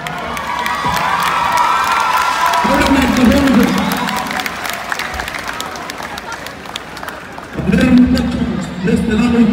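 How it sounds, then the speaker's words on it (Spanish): A rodeo crowd in Mesquite cheers and applauds in a loud, sustained roar, with swells of shouting and clapping and a voice talking over it. "quiero que le brinden un fuerte aplauso a este muchacho"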